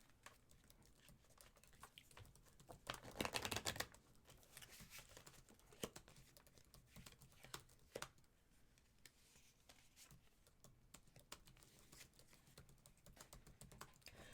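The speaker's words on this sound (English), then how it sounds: "I'm typing to somebody." Rapid, irregular keystrokes on a computer keyboard during a live tarot stream, with a dense burst of typing near the start before it thins to scattered, quiet clicks.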